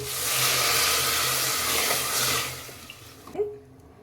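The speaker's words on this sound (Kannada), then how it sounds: "1 ಕಪ್ ನೀರು ಹಾಕ್ತಾಯಿದ್ದೀನಿ." A cup of water pours steadily into a cooking pot of ghee rice for a couple of seconds, a broad rushing splash, then stops, leaving a quieter tail with a brief clink.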